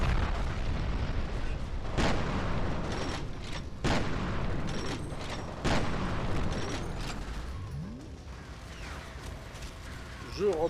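Explosions and gunfire in the shooter video game F.E.A.R. Perseus Mandate: a dense, rumbling battle with several sharp blasts and bursts of shots spread across the clip, loud and continuous, with voices mixed into the game sound.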